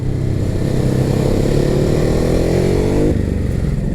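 A Ducati Hypermotard 950 engine pulls hard through the gears, its pitch climbing steadily over a few seconds before easing off near the end.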